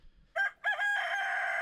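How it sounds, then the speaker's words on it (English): Rooster crows in Stardew Valley, a close two-part call: a short opening note, a brief break, then a long drawn-out cry that holds to the end. "Cock-a-doodle-doo."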